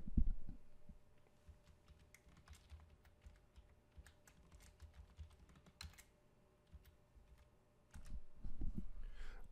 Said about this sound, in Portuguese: vou digitar minha senha